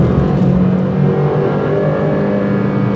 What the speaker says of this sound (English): Now I'm just kind of laying back, enjoying driving this Alfa Romeo Giulia.